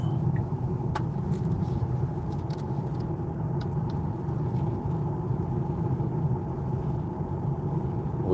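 A Tesla Model 3 Standard driving on a road, a quiet steady low rumble of road and tire noise inside the car with a few faint ticks and clicks, no one speaking.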